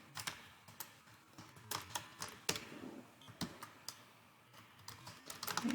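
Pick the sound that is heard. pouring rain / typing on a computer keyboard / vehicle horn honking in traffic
typing on a computer keyboard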